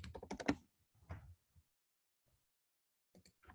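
Computer keyboard keys typed in a quick burst of clicks, then a few isolated taps and a short final flurry, close and fairly quiet with no talk.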